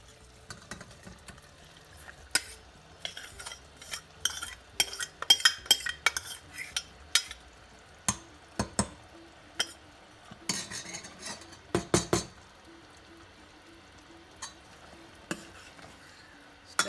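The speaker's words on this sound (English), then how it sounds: "Stir slowly so that dal should not break" A spoon stirs green dal in a pot, giving irregular metallic clinks and scrapes against the rim, some in quick clusters and others spaced out, over a faint low simmer.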